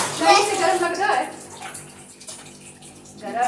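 A tap runs and splashes while dishes are washed, with water rushing loudly and unevenly close by. A child and an adult talk over the sound.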